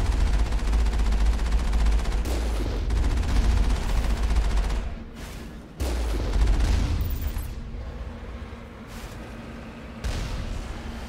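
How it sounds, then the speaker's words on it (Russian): Sustained bursts of automatic gunfire are heard muffled from inside a vehicle in Mass Effect, with rapid rattling volleys, a deep low rumble and brief pauses between bursts, with no talking. "Стрельбы в окно. Не, ну мы-то слышим их"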